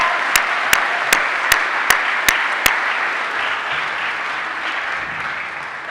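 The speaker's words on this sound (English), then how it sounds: "I think that deserves a round of applause." An audience at a university graduation ceremony applauds the PhD graduates, with sustained crowd clapping and several sharp, evenly spaced loud claps near the front early on.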